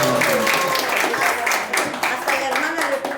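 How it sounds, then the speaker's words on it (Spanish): An audience at a book presentation claps in a sustained burst of applause, with a voice speaking over the clapping throughout. "Un aplauso también muy fuerte para Margarita León."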